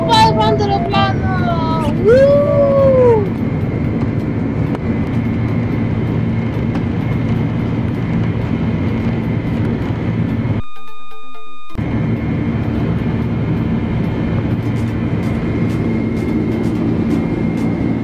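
Steady, loud roar of a passenger airliner taking off at the end of a trip to South Korea, heard from the cabin as a continuous low rumble. A voice sounds briefly at the start.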